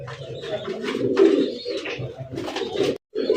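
Fancy Rasgolla pigeons coo close up in several throaty, rolling bursts, one after another, with a brief silent gap before a final coo.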